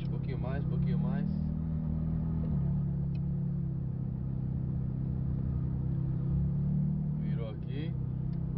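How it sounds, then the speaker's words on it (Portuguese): A luxury go-kart's engine drones steadily at a low pitch while driving, dipping slightly partway through, with voices talking over it near the start and end. "É um kart de luxo isso aqui"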